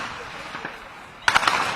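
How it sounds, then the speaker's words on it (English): Gunfire in the town of Geneina, Sudan, near the Chad border during intense fighting: a muffled, distant background gives way to a quick cluster of several sharp cracks near the end. "Now the sound of gunfire can be heard as locals run for cover."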